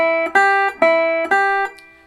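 Lap steel guitar notes played with pick blocking, each note cleanly cut off before the next is struck: four distinct, evenly spaced plucked tones ringing alone, close and clear, with the last one fading out.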